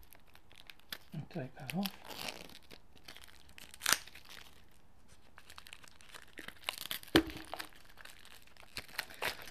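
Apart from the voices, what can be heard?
cutting and removing plastic wrap from a tarot deck box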